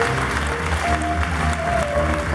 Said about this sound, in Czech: pekne veľký potlesk